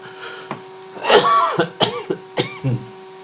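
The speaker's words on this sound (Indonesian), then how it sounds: "agak batuk nih" A close, loud cough followed by several short throat-clearing coughs in a quick, uneven series.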